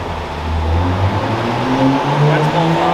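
Car engine held at full throttle in gear, a steady loud drone with a low rising pitch, under people talking inside the car.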